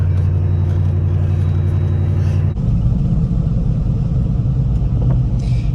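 Jeep Wrangler driving down the road after a steering alignment fix, giving a steady, loud engine and road rumble from inside that shifts in tone partway through, with no talking.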